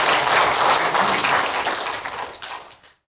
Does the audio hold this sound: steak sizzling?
no